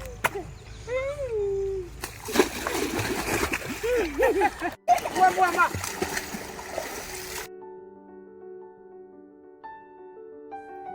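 River water splashes and sloshes as children slip and tumble in, with excited shouting and talking over it, then music takes over.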